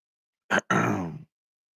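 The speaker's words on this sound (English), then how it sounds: "Let me clear my throat" A brief, throaty clearing sound: one short rough burst followed by a longer, gravelly rumble, close and fairly loud, with no talking.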